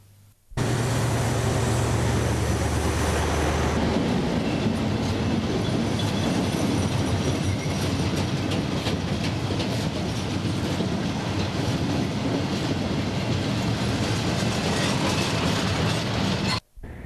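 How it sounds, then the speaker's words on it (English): A coal train passes on the railway line near Maltby colliery, a loud, steady rumble with rhythmic clickety-clack of wheels and some wheel squeal, close by and running the full length. "The train is now approaching Maltby colliery and signal box."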